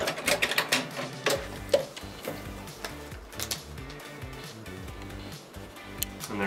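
Domestic sewing machine back stitching through fabric while quilting, a quiet close series of rapid ticking needle strokes with small clicks in an uneven rhythm.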